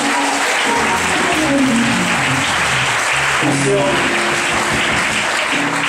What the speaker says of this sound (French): Au nom de Jésus, acclamons sa présence.